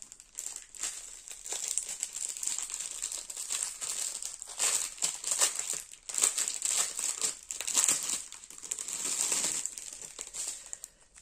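A package of craft supplies is opened by hand with close, loud crinkling and crumpling of wrapping in irregular bursts, with short pauses between.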